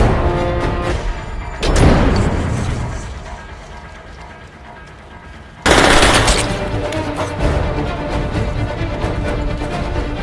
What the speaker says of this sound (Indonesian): Film diawali dengan aksi baku tembak dua anggota FBI bernama John dan Tom yang tengah melawan pasukan Triad dari Tiongkok.